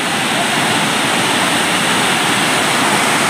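A waterfall hidden in the hills near Sule village in Kolhapur roars as a loud, steady, unbroken rush of falling water, filling the air evenly for the whole stretch with no voices.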